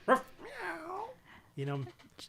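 A person mimics a dog, yipping and whimpering in short high-pitched bursts, then a lower woof, all in a human voice.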